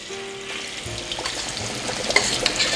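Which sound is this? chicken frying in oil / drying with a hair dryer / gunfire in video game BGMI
chicken frying in oil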